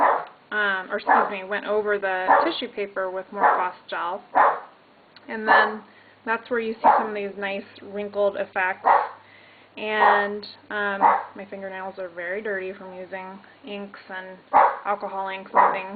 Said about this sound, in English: She barks at anything and everything.